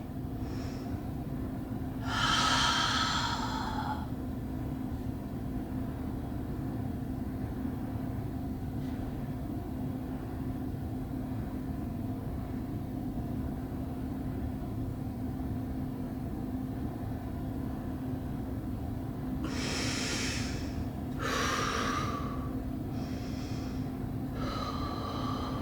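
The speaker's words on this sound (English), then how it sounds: "Couple of belly breaths." Deep belly breaths are taken during a stomach vacuum exercise: two sharp, forceful breathing bursts, one early and a cluster near the end, over a quiet steady room hum.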